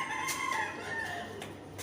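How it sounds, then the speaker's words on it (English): A chicken nearby gives a run of clucks and crowing-like calls, steady and fairly loud, with a few sharper bursts and no talk over it. "You know, you may be hearing that chicken a lot."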